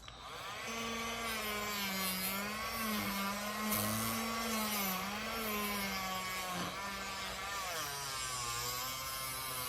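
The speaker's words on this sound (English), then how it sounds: "this is like a Walmart mini Dremel basically, and it has an attachment with a flat piece of sandpaper on there" A small handheld mini Dremel-style rotary tool fitted with a flat sandpaper attachment sands steadily and loudly, its high motor whine wavering slightly as pressure changes, continuous for the whole stretch with no talking.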